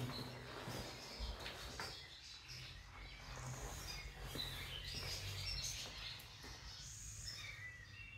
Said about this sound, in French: Là-haut, comme je vous le disais, c'est le pigeonnier. On entend tous les oiseaux.